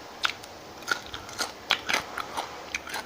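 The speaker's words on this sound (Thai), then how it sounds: "กรอบกินได้เบิดนี่แหละ" Crisp crunches of someone biting and chewing crunchy fried mackerel, a Thai snack, close up, with about a dozen irregular bites and chews and no talking.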